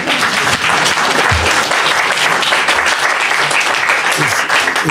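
Loud, sustained applause from a large crowd, a thick continuous roar of clapping that holds for nearly five seconds, with scattered lower thumps mixed in.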